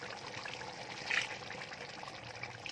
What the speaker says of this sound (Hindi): तो अब हम इसमें अपनी ज़रूरत के मुताबिक पानी ऐड कर देंगे